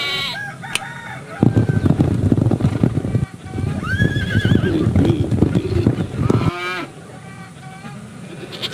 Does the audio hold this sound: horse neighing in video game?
yes